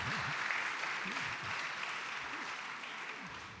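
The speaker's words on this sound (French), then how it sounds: "on peut l'applaudir effectivement" An audience at an elected officials' day claps steadily for Mireille Dessemond after her presentation on a strategic political project, a dense, even wash of hands with faint voices underneath.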